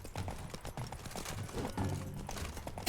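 The horse Roach gallops in The Witcher 3, rapid rhythmic hoofbeats pounding steadily and close for a few seconds.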